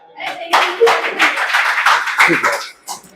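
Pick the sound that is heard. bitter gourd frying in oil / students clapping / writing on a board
students clapping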